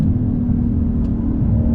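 A 2022 Lexus IS 500 F Sport Performance sedan brakes and downshifts, giving a steady, close engine rumble with a faint blip partway through.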